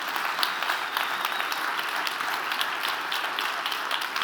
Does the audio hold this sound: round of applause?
yes